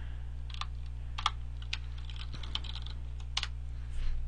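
Keystrokes on a computer keyboard entering an SVN update command in a command line, a steady patter of clicks over a constant low electrical hum, close and alone with no talking.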